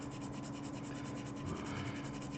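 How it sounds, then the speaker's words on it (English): Hand sanding of tiny parts for a copper head build, a steady continuous rubbing and scratching texture with slight rhythmic strokes, close and fairly quiet, no voices. "another fun-filled episode of me sanding little tiny parts"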